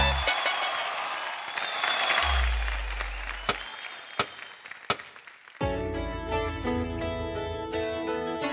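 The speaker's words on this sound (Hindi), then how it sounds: "एक बार जोरदार तालियां" An audience on a TV dance show breaks into loud applause and cheering, which fades as upbeat music starts.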